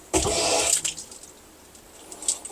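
Water rushes on through a whole-house water filter at a sudden loud burst, a broad hiss lasting under a second before settling to a quieter steady flow with a faint later surge.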